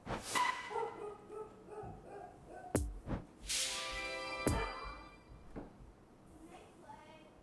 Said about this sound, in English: we got some dog barking crazy back there